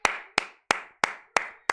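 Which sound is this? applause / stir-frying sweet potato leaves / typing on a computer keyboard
applause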